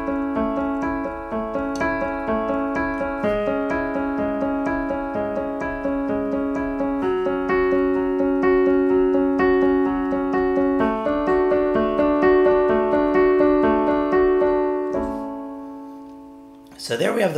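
The right hand on a piano plays a song intro as a continuous stream of even sixteenth-note broken chords, close and clear, ending with a brief rustle.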